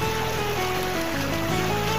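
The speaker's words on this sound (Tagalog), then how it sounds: "kusog kaayo ang agos sa tubig" A strong river current rushes steadily past, a dense broadband wash of flowing water that stays close and loud throughout with no break.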